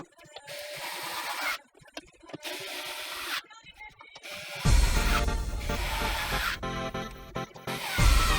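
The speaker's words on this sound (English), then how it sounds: "While tightening the screws, I am also inspecting for any gaps" Screws are driven into a wooden form for a concrete potting bench, with bursts of tool whirring and creaking wood separated by short pauses, then a denser stretch of mechanical grinding and rubbing.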